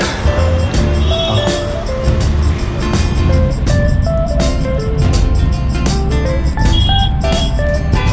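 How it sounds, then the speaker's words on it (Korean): Street traffic in Delhi heard from inside a hired car, with a continuous busy roar of vehicles and a jangle of tonal horns and melodic beeps repeating throughout, loud and close. "지금 올라 이번에 차를 불러서 이동을 하고 있는데"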